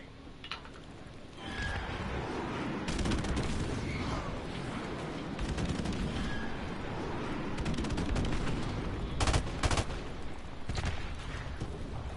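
Airstrike in Call of Duty Modern Warfare Remastered: bursts of gunfire and heavy explosive booms over a rumbling battle din, with a few louder blasts near the end.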